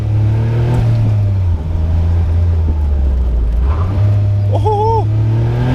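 A Caterham Seven 160S sports car on the brakes in second gear, sliding sideways on a road: a loud, close engine drone drops and rises in pitch, and a brief whining squeal follows near the end.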